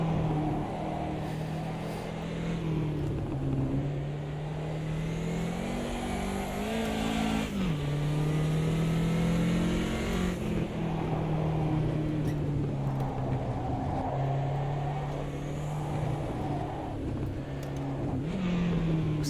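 A 2002 BMW turbo race car drives Cadwell Park in a racing sim, its engine holding a steady droning whine that rises and dips with each shift, loud and continuous throughout.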